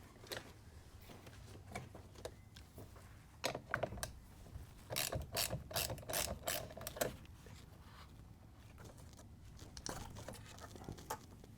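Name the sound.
ratchet removing the terminals from a RAM 1500 battery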